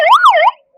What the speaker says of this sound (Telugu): అది స్విచ్ ఆన్ చేసి ఒకసారి సైరన్ వేస్తారు చూడండి సార్